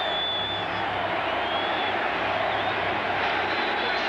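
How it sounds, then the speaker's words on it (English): Stadium crowd at an NFL game between the New York Jets and Green Bay Packers, chanting for Reggie, a broad steady roar of many voices that fills the background evenly without breaks. "The crowd is chanting for Reggie."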